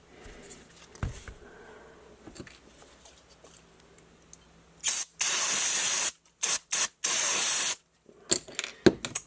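Cleaner sprayed into the throttle body of a VW GTI MK5 in several loud, hissing bursts, some long and some short, close to the mic after a stretch of quiet handling noises.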